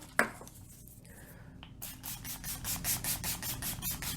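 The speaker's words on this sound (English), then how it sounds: "I'm just going to add some setting spray" A series of short sprays of Milani Make It Last setting spray, about eight quick bursts in a steady rhythm, close up after a brief tap and some rustling.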